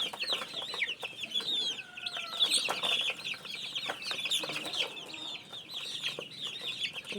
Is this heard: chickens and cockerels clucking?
yes